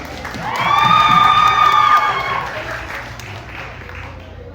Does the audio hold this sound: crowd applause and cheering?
yes